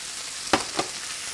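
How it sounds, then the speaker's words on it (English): Frozen stir-fry vegetables, about 12 ounces, sizzling in a hot pan on medium-high heat, a steady close hiss with two brief louder crackling pops. "You can hear it sizzling."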